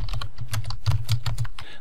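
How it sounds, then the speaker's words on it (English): Rapid typing on a computer keyboard, a quick run of crisp, close key clicks in an uneven rhythm with no voices. "just start typing"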